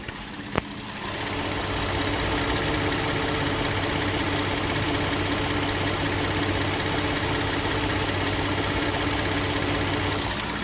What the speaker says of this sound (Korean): 엔진음도 지금 상당히 정숙하죠 GDI 엔진을 탑재하고 있긴 하지만 상당히 정숙한 엔진음을 들려주고 있습니다